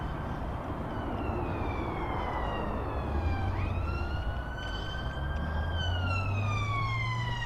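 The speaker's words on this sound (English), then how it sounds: "Oh, ambulance." An ambulance siren wails as it passes, its rising and falling tones sliding down in pitch as the vehicle goes by, loud over steady traffic rumble.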